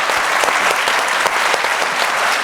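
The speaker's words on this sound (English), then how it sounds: "Let's give a round of applause" An audience at a live panel event gives a round of applause, dense and loud, continuous clapping from a large crowd filling the whole stretch without a break.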